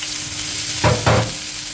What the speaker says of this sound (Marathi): ओके, भाजून घेता कांदो.